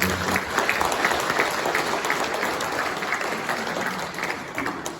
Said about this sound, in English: I think that deserves a big round of applause for that.